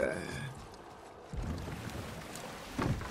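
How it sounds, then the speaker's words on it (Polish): A boat moves across water in the video game God of War (2018), a soft wash of water and wind heard under brief game voices and light effects. "No i jest łódka."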